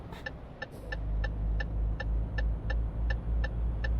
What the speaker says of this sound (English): I really don't like that indicator noise.